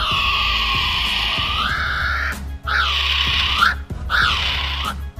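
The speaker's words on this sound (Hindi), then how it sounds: "कीवी, इस छोटे से परिंदे की आवाज सुनकर शायद आप डर ही जाएंगे।" Kiwi, a small flightless bird, giving loud shrill screeching calls, three long rising-and-falling cries in succession, close and clear over low background hum.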